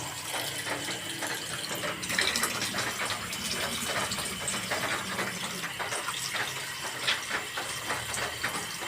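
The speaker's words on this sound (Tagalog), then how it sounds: "dagdagan natin tubig" Water pours in a steady gushing stream into a pot of mung bean and chicken stew, a continuous splashing fill with no talking.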